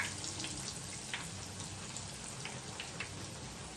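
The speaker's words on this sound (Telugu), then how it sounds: "ఇప్పుడు మనం ఇవి వేసేసుకొని ఫ్రై చేసుకుందాం." Pieces sizzle in hot oil or ghee for a sweet bread dessert, a dense, even crackle like light rain that runs steadily and close by with no voices.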